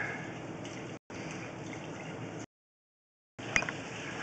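Steady rushing flow of water from a flushed toilet running through a sewer pipe, heard from inside the line as a continuous broadband wash that cuts out briefly, then resumes.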